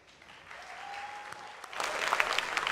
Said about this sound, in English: A big round of applause for Zoya.